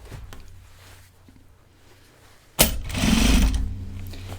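A sewing machine stitching a seam through backpack fabric, quiet low hum at first, then a loud, steady mechanical whir of fast stitching starting abruptly partway through and running to the end.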